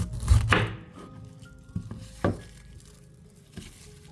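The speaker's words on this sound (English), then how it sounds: "Use a sharp knife to cut off the root and top." A sharp knife cuts through the root and top of a pineapple on a cutting board, giving a heavy thud followed by a few lighter, spaced knocks and scrapes, close up and without talking.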